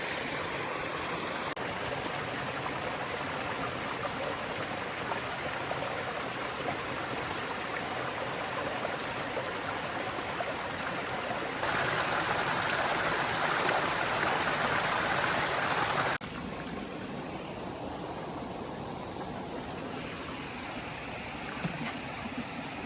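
Clear stream water rushing continuously beside the Appalachian Trail, a steady broadband gush that swells louder midway and then softens, close by with no voices.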